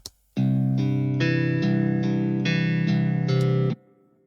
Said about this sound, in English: now if I'm switching it back, the reverb, this is how it sounds.